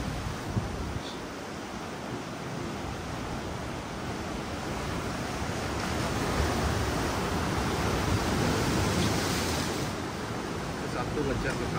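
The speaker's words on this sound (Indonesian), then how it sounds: "Cuma bisa ada deburan ombak aja." Steady broadband surf roar from ocean waves breaking on the shore at Nusa Penida, swelling slightly midway, with wind noise across the microphone and no clear voices.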